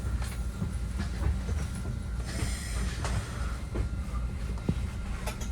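A Caltrain southbound express pulls out of Millbrae station, its wheels rumbling steadily with faint clicks and rattles of the rail cars, heard from inside the carriage with no talk.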